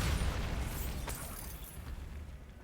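A Bombarda blasting spell in Hogwarts Legacy goes off as a single loud, broad explosive burst at the start, then rumbles and fades away over a couple of seconds, with no voices heard.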